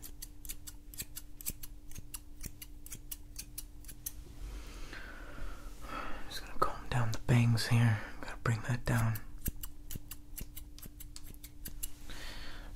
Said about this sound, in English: Got the high-quality professional scissor cut.